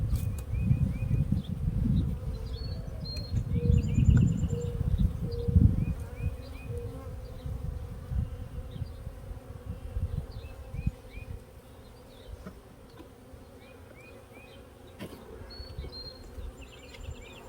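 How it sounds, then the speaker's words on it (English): Bees buzz around a treatment-free backyard apiary with a constant low, dense hum, louder in the first few seconds, while birds chirp faintly in the background. "I got plenty of bees."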